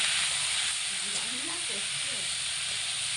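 Ghetkol sizzles in a pan over medium heat with a steady, loud, close hiss throughout, and a voice talks faintly beneath the frying.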